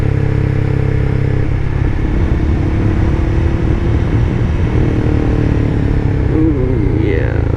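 A Honda CBR300R motorcycle being ridden in third gear, its engine giving a steady loud drone with wind rush throughout and a slight rise in pitch toward the end.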